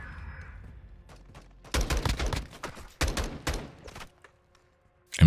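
An M16 rifle fires in Modern Warfare 2 multiplayer, two dense bursts of rapid shots separated by a brief pause, loud against an otherwise quiet background.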